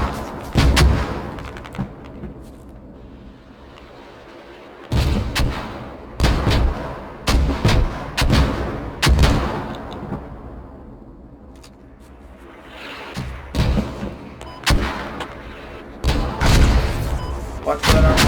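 Mortar shells from a military video game slam down in a string of heavy booming explosions, several loud close blasts with quieter rumbling gaps between them, and voices talk over the action.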